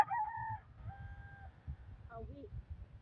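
A fighting rooster (gamecock) crows twice in quick succession, fairly close, followed by a short cluck, over a low background rumble.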